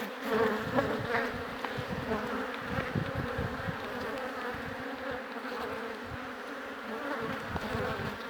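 Bees buzz steadily all around, a dense continuous hum of many insects close by at a termite mound, with no talking.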